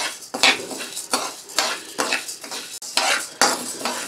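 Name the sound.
stirring roasting dal in a pan for idli powder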